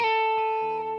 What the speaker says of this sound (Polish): I teraz robię slide tym pierwszym palcem na dziesiąty, w tym przypadku, próg struny drugiej.